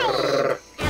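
A person growls back in a rough, throaty snarl, mimicking an animal growl, loud and close, with a short break before a second growl starts.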